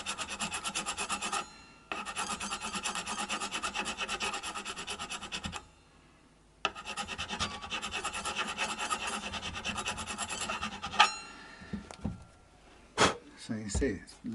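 A fine file rasps steadily across a guitar part level with the strings while setting up a Vintage V6, the strokes running in long continuous bursts with a brief pause, then tapering into scattered scrapes and knocks.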